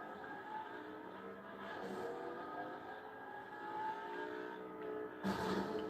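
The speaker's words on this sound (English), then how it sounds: "There's a car right here. I'm driving over to you." A car in a video game drives with a steady engine drone and rising revs, its tone holding throughout at moderate level, with a brief burst of noise near the end.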